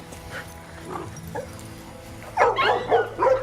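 Several small dogs yip and whimper close by, quiet at first and then louder, higher-pitched yelps in a short burst near the end.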